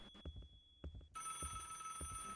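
A telephone rings in the Roblox game ALONE as a steady electronic bell tone. Slow, rhythmic heartbeat-like thumps run underneath, and the overall level is faint.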